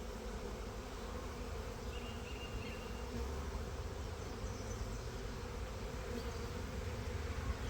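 Dense, steady buzzing of many honey bees close by, a continuous droning hum with no talking.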